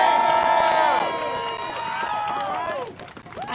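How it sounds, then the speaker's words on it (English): A crowd at a Reclaim Pride protest in Chicago's Boystown cheers and shouts loudly from the start. The noise is dense with overlapping whoops and voices and eases slightly toward the end. "I need y'all to make some noise."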